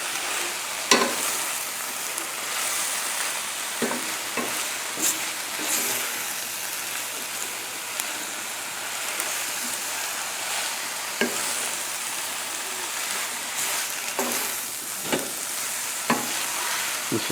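Prosciutto ham and garlic sizzle in a pan with a constant bright crackle, broken by several sharp scraping stirs spaced unevenly across the clip.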